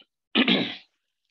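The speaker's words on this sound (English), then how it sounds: "Please excuse me for my in between coughs today." A single short, sharp cough, close and abrupt, alone in an otherwise quiet moment.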